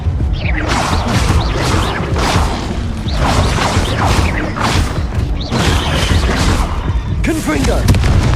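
Confringo fire spell blasts in the Hogwarts Legacy video game, a run of loud booming explosions and crackling bursts about every second, heavy and close, mixed with combat clatter and voices shouting.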